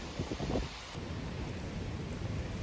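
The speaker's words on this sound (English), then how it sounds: "Ian is bringing heavy rain, flash flooding and high winds to both South Carolina and North Carolina" Hurricane Ian on the South Carolina coast, a steady roar of wind and heavy rain buffeting the microphone, with a low rumbling gust at the start and continuous noise throughout.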